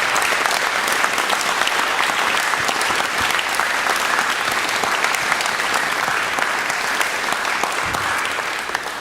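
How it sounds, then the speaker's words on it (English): A concert audience applauds a school choir at a spring concert, dense sustained clapping from a full hall that continues evenly and loudly throughout. "could you join me again applauding this wonderful group of people assembled in front of us?"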